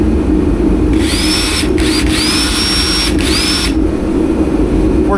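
An 18-volt lithium battery adapter drives a power tool that runs in several short bursts, each whining up in pitch before cutting off. It is loud and close, with no talk.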